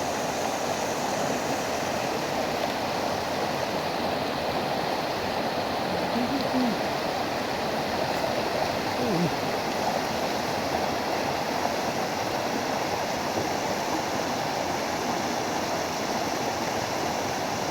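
Clean, foamy spring water pouring and flowing in a continuous, steady rush with no breaks, fairly loud and close throughout.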